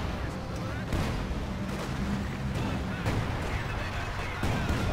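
Artillery fire support barrage in Company of Heroes 2, a dense continuous rumble of booms and impacts with several heavier thuds, under commentators' talk.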